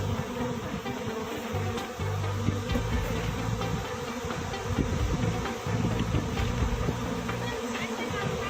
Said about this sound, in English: Thousands of flies swarm the sky, a strange and eerie natural phenomenon.